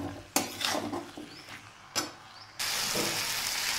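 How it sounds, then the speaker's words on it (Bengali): A spoon scraping and clinking against a pan while stirring cauliflower with tomato sauce and salt, a few sharp metallic knocks and scrapes, then a steady sizzling hiss. "এবার আমি এটা ভালো করে নেড়ে নেব।"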